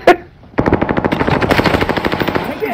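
Rapid automatic gunfire in a battle royale shooter: a short burst, a pause, then sustained loud, rhythmic volleys close by, with no talk over them.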